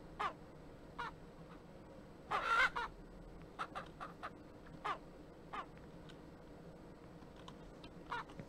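Chickens in Ranch Simulator, a series of short, sharp clucks and squawks scattered irregularly, with one louder, longer burst early on, over a quiet low background.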